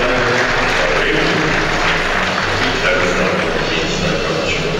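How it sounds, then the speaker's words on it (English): Polite applause from a predominantly Polish crowd at a weightlifting championship, men's 105 kg snatch, steady and dense, filling the arena evenly throughout. "So polite applause from the predominantly Polish fans here"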